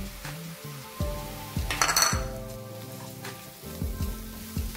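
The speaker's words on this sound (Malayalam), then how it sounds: "ഈ ചിക്കൻ ഇതിലേക്ക് ആഡ് ചെയ്ത് കൊടുക്കുക" Chicken pieces go into spiced masala in a hot pan, with a burst of sizzling and frying amid clinks and scrapes of a utensil against the cookware, close and moderately loud.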